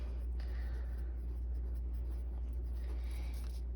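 Pen or pencil writing on paper for a geometry problem, soft continuous scratchy strokes heard up close over a low steady background hum, with no talking.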